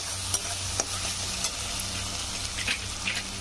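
Masala spice paste for shahi paneer being sautéed in a pan, a steady close sizzle broken by repeated scrapes and taps of a stirring spoon.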